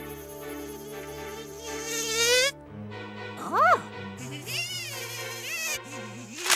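Mosquitoes buzz in a Raid insecticide advert as a whining, wavering drone set among music and tones, rising and falling in loud bursts.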